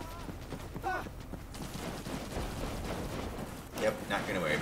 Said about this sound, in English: Well, like, who's shooting? Why are you shooting?